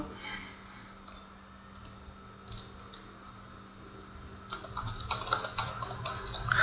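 Typing on a computer keyboard while entering a host profile name, with scattered single key clicks early on and then a denser burst of rapid keystrokes near the end, close and fairly quiet.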